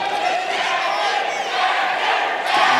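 A crowd cheering and roaring at a grappling match during a SuperFight event, a dense sustained wall of voices, loud and unbroken throughout.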